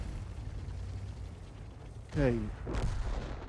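A tank cannon shot in a tank video game, a single heavy boom with a rumbling tail, followed by a short spoken word and continued low engine-like background.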